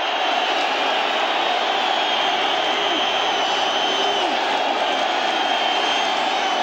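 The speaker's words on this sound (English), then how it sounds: "Giants crowd getting into this once again" Giants home crowd at a 1985 Cowboys vs. Giants football game, a loud, continuous stadium roar that stays at a steady level throughout, with faint commentary underneath.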